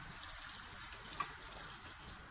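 Water is poured into a pot of rice on a low flame, giving a soft, continuous trickling and splashing at low volume.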